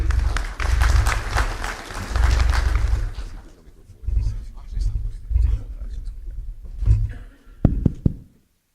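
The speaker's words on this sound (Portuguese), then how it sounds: "Por favor, nossos aplausos mais uma vez a ele" An audience at a corporate governance presentation claps heavily for about three seconds, then sparse scattered claps and low murmuring follow, ending in a few louder bumps.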